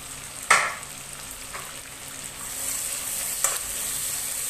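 Onion, cinnamon, cloves, cardamom and curry leaves sautéing in hot oil for salna, a soft continuous sizzle that swells later, with a couple of sharp utensil taps against the pan, close by and without talk.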